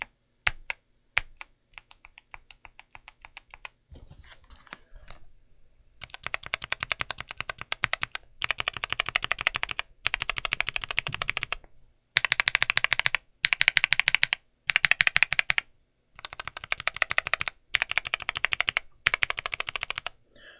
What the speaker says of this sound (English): It has a deeper tone, but then there's a plasticky aftertone that comes on the upstroke.